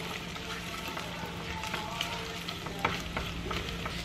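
Sausage frying in a pan, a close, steady crackling sizzle with small pops and occasional stirring scrapes, continuous for a few seconds without talk.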